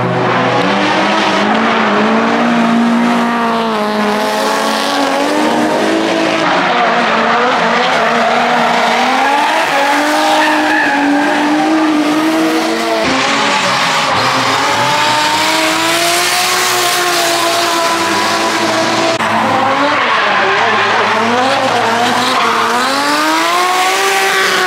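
Several cars drift around a Japanese racing circuit with screaming engines and long squealing tires, loud and continuous throughout, the engine notes rising and falling as the cars slide past, with no talking.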